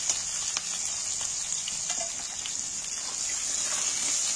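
Onions hit very hot oil in a biryani pot and fry with a steady close sizzle and bubbling hiss, with faint stirring scrapes throughout.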